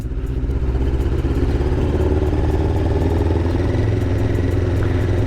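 A 1999 Honda CBR 600F motorcycle engine while riding, a loud, steady close-up drone with constant mechanical clatter and no pauses.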